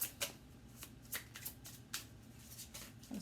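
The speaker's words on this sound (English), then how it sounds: "I'll super shuffle this one too" Crisp riffling bursts of a card deck being shuffled, several quick ripples and snaps in a row, close and fairly quiet with no talking.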